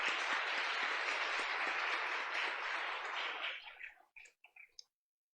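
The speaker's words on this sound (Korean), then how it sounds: "뜨거운 박수로 감사." Congregation at a Korean united prayer meeting gives warm applause, a faint, distant, steady patter of many hands that thins out and stops with a few last scattered claps.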